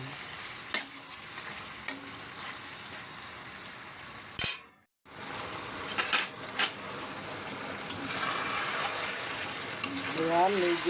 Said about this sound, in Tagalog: nagisa-gisa na siya, guys.